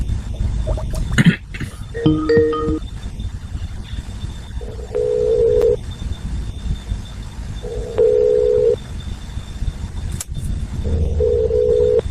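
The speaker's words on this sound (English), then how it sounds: "It's 1:41 p.m. and I'm calling Eric, who is my state legislator, Gary Howel" A phone call being placed: a quick run of dialing tones, then repeated ringback tones in evenly spaced bursts over a low line hiss, fairly loud with no talk.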